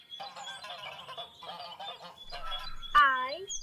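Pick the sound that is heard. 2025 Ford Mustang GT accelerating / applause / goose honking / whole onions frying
goose honking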